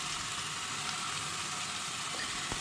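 Jackfruit curry with spices cooks in a pan, giving a dense, even sizzle and bubbling hiss close by, with a faint scrape of stirring near the end and no one talking.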